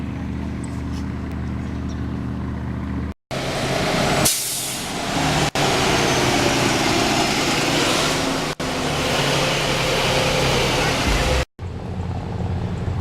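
A steady, droning engine of a restored wooden motorboat hums close by on Lake George, mixed with a constant rush of wind and water spray.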